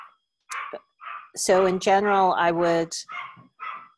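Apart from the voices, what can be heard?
puppy barking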